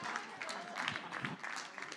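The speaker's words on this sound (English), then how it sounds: "Let's clap." Audience at a youth community forum clapping, a moderate burst of many hands under a lively room, with voices cheering and talking over it.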